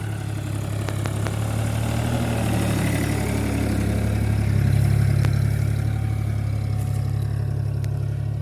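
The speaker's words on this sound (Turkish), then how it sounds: "50 beygirlik bir traktör TT50 Neoland" A New Holland TT50 50-horsepower tractor runs steadily while tilling a beet field, its engine a continuous low rumble that holds even throughout, with a slight swell midway.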